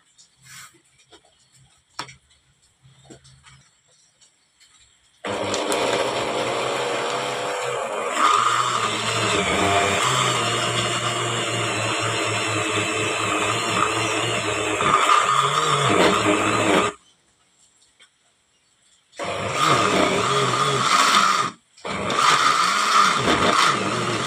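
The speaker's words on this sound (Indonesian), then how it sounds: "saya ingin mendapat sari-sari yang lengkap dari daun lam toro ini, harus saya blender" A blender whirs loudly through leucaena leaves being chopped for liquid organic fertilizer, running in one long steady stretch, then two shorter pulses with brief stops between, preceded by faint clicks and handling noise.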